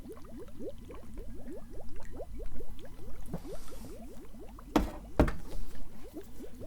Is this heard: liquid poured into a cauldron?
yes